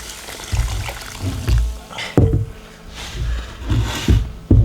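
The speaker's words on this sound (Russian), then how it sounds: "Заливаю горячей водой." Hot water poured over salted chebak fish in a container in a home kitchen, a few uneven splashing pours with knocks and handling clatter between them, close up and without talk.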